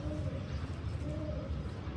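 Soft, low pigeon cooing repeats steadily against a dense background murmur, fairly close and moderately loud.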